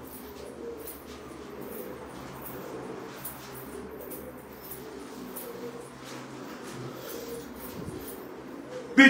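Pigeons coo softly and steadily at a pigeon auction, a low rumbling murmur under a constant background hum, with no voices heard.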